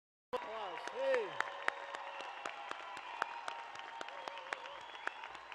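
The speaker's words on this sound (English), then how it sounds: "join me in a round of congratulations. Applause." Graduates and guests at a university commencement ceremony break into sustained applause, steady clapping from a large indoor crowd with a few sharper claps standing out and a brief shout near the start.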